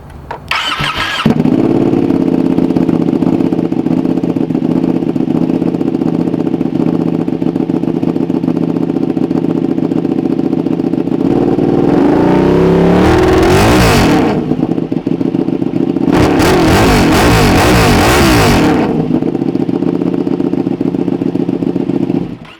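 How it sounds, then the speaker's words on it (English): A custom Ducati 959 Panigale with an aftermarket exhaust cranks and fires up, then settles into a loud, steady, close idle, broken by two sharp throttle blips that rev the engine up and back down. "So let me start it up for you guys so you can hear the exhaust in person."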